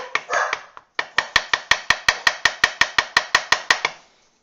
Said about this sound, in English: take your hammer and start hitting the block from the other side